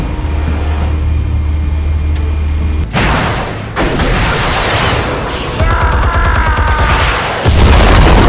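A heavy explosion in the Batman: The Telltale Series video game: loud booming blasts and rumbling debris with a mechanical buzz, close and dominant, broken by brief gaps, with no talk.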